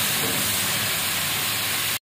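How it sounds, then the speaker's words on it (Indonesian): Small anchovies (teri) frying in oil in a pan, a dense steady sizzle and crackle filling the clip, loud and close with no voices, cutting off abruptly. "Aku lagi goreng teri ini"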